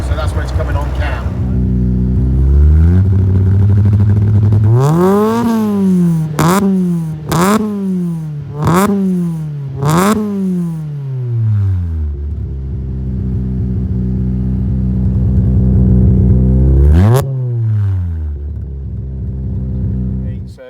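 A Renault Twingo R2 rally car engine revs up hard several times, rising and dropping in pitch with sharp, quick blips between long climbs, loud and close, while someone talks over it.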